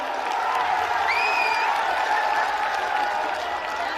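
A crowd at a large rally in Ranchi applauds, a dense, steady wash of clapping from many people that stays even throughout, with a brief whistle cutting through and the murmur of voices underneath.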